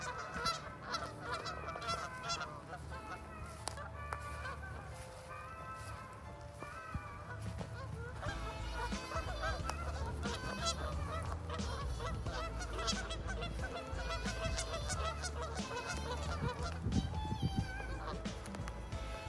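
Geese honk repeatedly at moderate distance, their nasal calls overlapping in irregular bursts against a steady outdoor background, with faint voices now and then.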